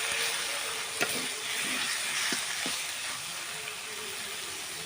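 Mustard greens stirred in hot oil with split green chilies in a pan give a steady close sizzle, broken by a few soft scrapes and taps of the spatula.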